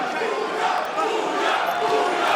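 A partisan arena crowd roars at a fight night, loud continuous cheering and shouting from many voices that swells slightly and keeps building.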